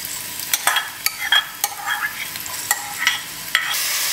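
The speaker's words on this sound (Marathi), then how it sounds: "तेल गरम जाले कांदो घालया।" Sliced onion dropped into three tablespoons of hot oil for a Goan beef curry, a steady sizzle broken by sharp stirring clatters and pops, close and alone with no talk.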